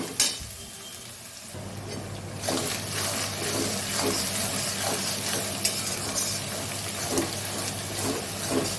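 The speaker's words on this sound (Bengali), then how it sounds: "পেঁয়াজটা ভাজা হয়ে এসছে" Onions frying in a pan for a spicy bombil fish dish, a steady close sizzle with light stirring scrapes and clinks running throughout, no talking.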